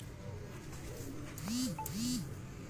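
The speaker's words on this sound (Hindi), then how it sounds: "ये मेरा हीरो कबूतर है।" A pigeon close by gives two soft, low coos in quick succession over a faint rooftop background, with a little speech nearby.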